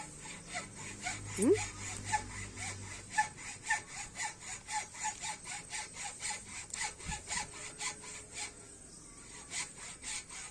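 Rhythmic back-and-forth strokes of a hand saw cutting, steady and close, with a brief dog whimper early on.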